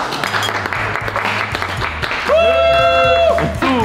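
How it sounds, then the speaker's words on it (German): Applause from a small group breaks out, steady clapping carrying on while a few voices call out and chatter over it. "Kann man schon mal klatschen."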